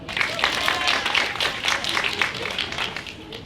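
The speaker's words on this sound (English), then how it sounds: "Clap for her." An audience at an awards banquet claps in a dense, even patter of many hands for a few seconds, at moderate loudness, with faint voices mixed in.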